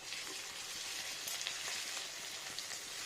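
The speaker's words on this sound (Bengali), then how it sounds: "আদাটা দিয়ে একটু কষিয়ে নেবো ভালো করে লালচে লালচে হবে" Ginger paste frying in a hot pan gives off a steady close sizzle with soft stirring scrapes, spiced with small crackles and pops throughout.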